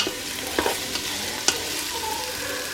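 Onions sautéing in a Ninja Foodi, a close crackling sizzle broken by a few quick scraping stirs and knocks of a utensil against the pot.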